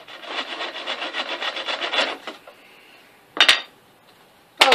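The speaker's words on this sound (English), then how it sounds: "So I'll try to cut it with my back saw." A back saw cuts through wood in quick rhythmic strokes for about two seconds, close and fairly loud. Then it stops, and two brief scraping clunks follow.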